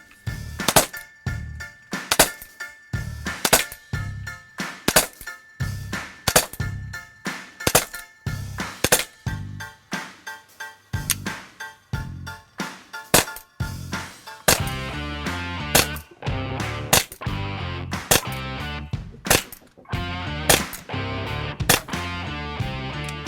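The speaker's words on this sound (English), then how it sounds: "We're going to fire it with .43 paintballs now" An Umarex T4E Glock 17 Gen 5 replica pistol fires .43 caliber paintballs, a long series of sharp, loud, close cracks at irregular intervals with metallic clicks between shots and no talking.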